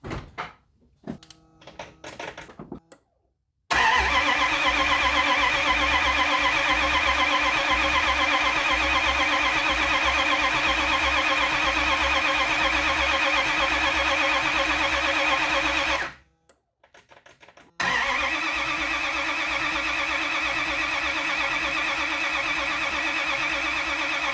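A Dodge Dakota fitted with a small block V8 turns over on the starter with no fuel pressure, a loud, steady cranking drone held for about twelve seconds, then a brief pause and another long crank, after some short clunks at the start.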